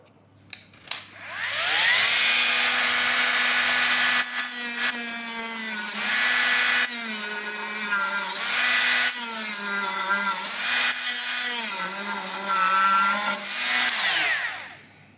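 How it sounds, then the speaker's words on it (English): A hand grinder fitted with 3D printed sandpaper grinds into foam, giving a loud, steady whirring rasp that runs almost throughout, with the motor pitch dipping and recovering as the abrasive bites into the foam. "as you can see, it grinds foam"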